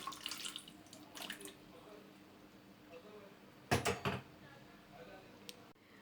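Boiled hot water is used to sterilize jar lids, heard as faint, brief splashes and sloshes of water with short metallic knocks between quieter stretches.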